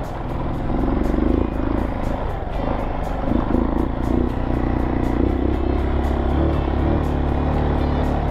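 A motorcycle engine warming up before a trail ride, a steady, loud, close drone that holds an even idle without pause.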